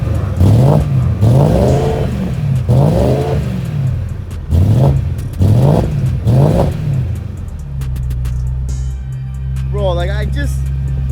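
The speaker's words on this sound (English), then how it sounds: "I'll put the camera behind so you can hear what it sounds like with this Magnaflow exhaust." BMW E92 M3 with a Magnaflow exhaust, limited to about 3,000 rpm, revs in six loud, close blips, each rising and falling, before settling to a steady idle while a voice speaks briefly.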